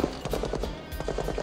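A string of firecrackers pops in quick irregular bursts, loud and fairly close, with crackling reports over a steady noisy background.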